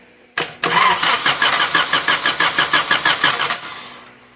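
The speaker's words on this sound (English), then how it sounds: "I got a jumper wire on the starter so I can start it from out here." A Honda car engine cranks on its starter through a jumper wire, a rapid, loud rhythmic churning of about a dozen compression strokes over three seconds that stops without the engine catching.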